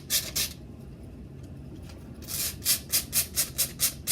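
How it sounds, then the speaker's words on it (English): Coarse and medium rock pieces rub together to grind out sand, a gritty rasp at first, a quieter pause, then a steady series of rhythmic scraping strokes, close and fairly loud. "when I rub the mid and the coarse one together, I get lots of pieces of sand that come up"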